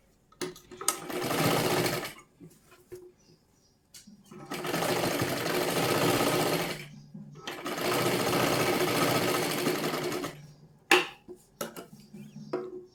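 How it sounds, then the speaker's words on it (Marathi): Sewing machine stitching the sleeve seam of a blouse, three long runs of close, steady motor whir with short pauses and small handling noises between them. "त्यासाठी आधी एक शिलाई मारून घ्या"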